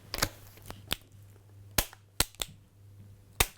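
A shotgun dry-fired on snap caps gives a series of sharp, close metallic clicks and snaps at irregular intervals, about seven distinct hits with quiet gaps between.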